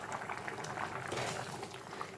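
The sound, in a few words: drumstick masala boiling in covered pan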